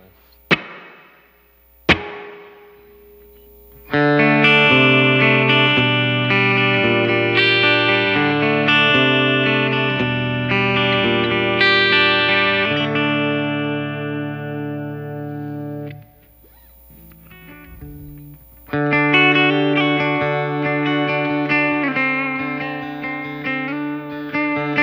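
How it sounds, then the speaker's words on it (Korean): An electric guitar plays a clean tone with reverb through a Kemper Profiler Stage: two sharp plucks, then loud ringing chords that decay into a pause before the strumming resumes, with no talk. "리버브만 좀 들어 있어요"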